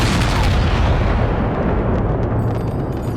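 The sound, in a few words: cannon firing a volley at rebel troops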